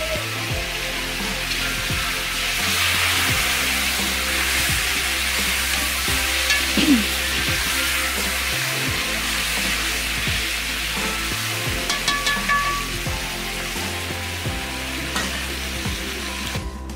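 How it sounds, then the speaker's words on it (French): Pork meat frying in red oil in a pot makes a steady, loud sizzle that lasts throughout, with low rhythmic thumps underneath and occasional faint clinks. "Je rajoute alors le morceau de viande à l'intérieur que je vais juste griller quelques minutes pour solidifier"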